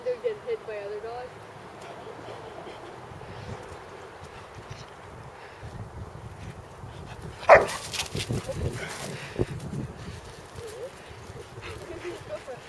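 Several dogs romp around a backyard trampoline, one bark ringing out sharply midway among scattered yips and scuffling, with people chatting over the play.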